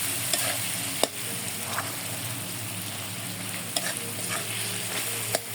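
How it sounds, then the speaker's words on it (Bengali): Pangas fish roe frying in a pan, a steady sizzle with soft stirring scrapes and a few sharp clicks of a utensil against the pan, close and continuous with no talk. "দেখেন এই যে একটু ভাজা ভাজা করে নিচ্ছি।"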